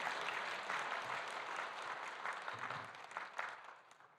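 A church congregation applauds during a Sunday service to welcome newly registered members, a soft, sustained patter of many hands clapping heard from a distance, slowly thinning toward the end.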